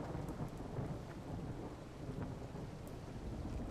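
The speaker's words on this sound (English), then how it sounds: "Oxygendavid is very proud of the storm and the rain effects that he's added in" Storm and rain effects on the Sandy Bay map in Farming Simulator 17: a continuous dense rain wash with deep rolling thunder rumbling underneath, steady and enveloping with no talk.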